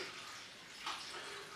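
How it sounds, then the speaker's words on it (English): Water pours steadily into a stock pot for stock-making, a continuous hissing rush that swells briefly midway, faint and close. "So I'm going to put the water in"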